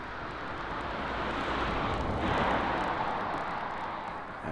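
A Boeing 777 airliner at Paris Charles de Gaulle airport gives off a steady, broad jet roar that swells slightly and holds, heard from a spotting position with no voices.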